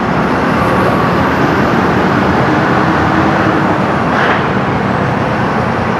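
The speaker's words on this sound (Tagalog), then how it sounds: "Kahit sa traffic." Steady, dense road traffic in a Manila street, a continuous broadband roar of cars and buses with engines droning and a brief passing swell near the end, loud and close, with no talk.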